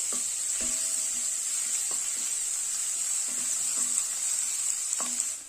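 Crushed garlic and ginger sautéing in hot oil give off a steady, close sizzle, with a few soft scrapes of stirring and no talk.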